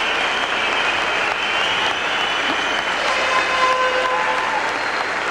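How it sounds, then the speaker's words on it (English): A crowd at a curling medal ceremony at the Esquimalt Sports Center gives a warm, steady round of applause, a dense clapping wash held at even loudness throughout. "Receiving a warm round of applause from the crowd here at the Esquimalt Sports Center, and deservedly so."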